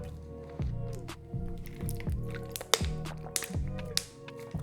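Someone drinks water close to the mic, with a run of wet gulps, sips and swallowing squishes in an uneven rhythm, pausing between swallows with no talk.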